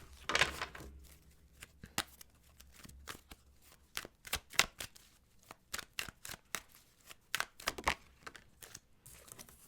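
Tarot cards handled during a reading: a string of short, crisp slaps and riffles as the deck is shuffled and cards are pulled, irregular bursts through the quiet, fairly close with no talking.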